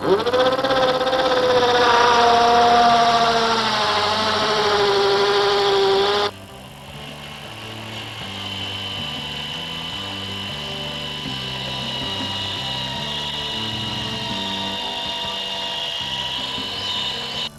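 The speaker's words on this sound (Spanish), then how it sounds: "Ahora vamos a taladrar los agujeros que hemos marcado utilizando la misma broca que antes." A power drill whines loudly at high speed for several seconds while drilling marked holes, then stops abruptly, leaving a lower steady mechanical hum.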